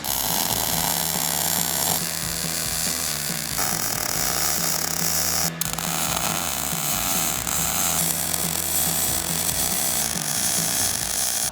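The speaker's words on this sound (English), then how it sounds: "I'm gonna weld that in." Steel is being welded into a welding cart, with a steady, dense crackling buzz and an underlying electrical hum that continue almost without a break, briefly interrupted once midway.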